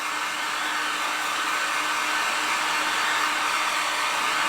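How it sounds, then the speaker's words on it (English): Steady, loud blowing whoosh of a heat gun drying a porous clay pot, a constant airy hiss with a faint hum underneath, unbroken and close for the whole stretch. "I'm just going to speed it up and just hit it with the heat gun"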